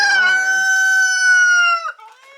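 A backyard hen gives a loud, close, drawn-out squawking call lasting nearly two seconds, then trails off into a few soft clucks.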